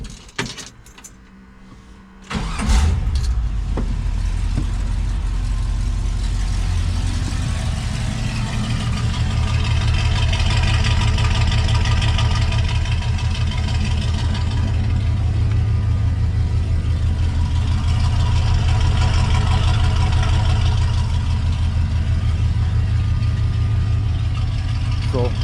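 A car engine settles into a steady, moderately loud idle after a brief start, a low rumbling hum that holds evenly throughout, heard up close with a sway bar fitted to the vehicle.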